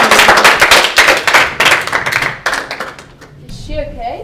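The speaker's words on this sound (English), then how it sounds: "Let's all give her a huge dramatic drama club applause." Drama club members clap and cheer for a classmate cast as Juliet in the school play, a loud burst of close, dense clapping that tapers off, with excited voices rising near the end.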